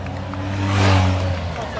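Cars roll past at the start of the Grand Prix cycliste de Québec, a steady engine rumble swelling and fading over a couple of seconds beneath a murmuring crowd.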